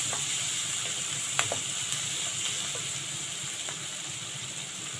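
Kidneys frying in a pan with garlic, a constant loud close sizzle and hiss, broken by a few faint clicks of utensils against the pan.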